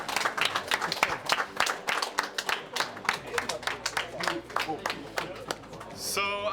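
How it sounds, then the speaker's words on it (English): A studio audience applauds loudly and steadily at a CS:GO tournament grand final, a dense patter of many hands clapping close by, tapering off at the end. "Can we have a big round of applause in the studio, please?"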